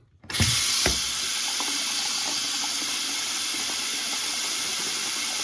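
After a brief click, hot water gushes from a tap fed by a recirculating pump and gas water heater, in a strong, steady hissing stream that continues unbroken to the end.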